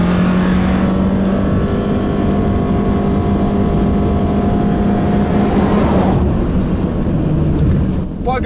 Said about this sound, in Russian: Я выхожу. Выхожу на газу и вот бью газ в пол.